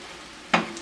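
Braised Korean tofu being turned over in a hot pan, a brief close scrape and sizzle bursting out after a quiet moment.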